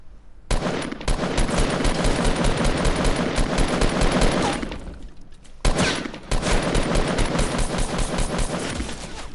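Loud, sustained automatic gunfire in Fortnite, two long rapid bursts separated by a short pause, dense and close with no voices.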